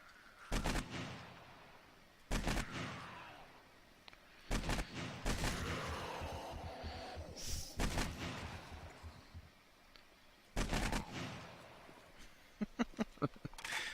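Gunfire from a newly acquired gun in the zombie survival game 7 Days to Die, with sharp single shots and short bursts spaced apart and a quick rattle of rapid shots near the end.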